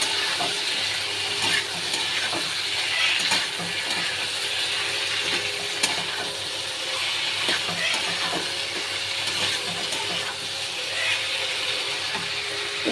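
Onion paste and ginger paste sizzle in a pan as a spoon stirs, making a continuous frying hiss broken by repeated scraping and clicking strokes nearby.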